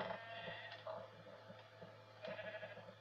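Minecraft sheep bleat in short, faint repeated calls over a low background hum.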